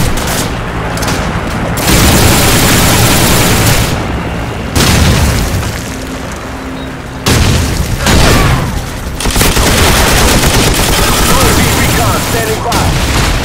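Call of Duty 4 gunfire with an M60 in play, loud sustained bursts and booming shots coming in dense volleys with brief pauses, all very close and heavy.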